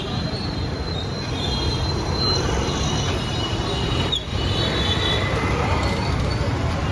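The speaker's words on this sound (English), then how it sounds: "I'm going to take this train." A suburban train rolls through Virar railway station with steady rumbling and clattering wheels, and a thin metallic squeal rises above the noise, fairly loud and continuous throughout.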